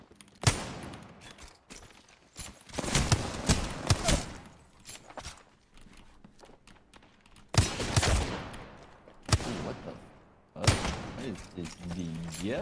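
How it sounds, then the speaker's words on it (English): Gunshots in the video game Apex Legends, loud clusters of rapid shots and single blasts across a 1v1 fight, separated by quieter gaps with footsteps and game noise; voices are detected alongside. "those two shots are insane"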